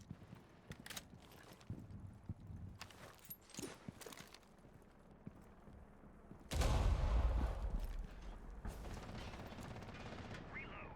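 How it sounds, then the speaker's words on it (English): A gun magazine being reloaded in a first-person shooter: quick mechanical clicks and ratcheting handling sounds under background game noise, then a sudden loud burst of gunfire or impact noise that dies down into a steady din. "Loading mag."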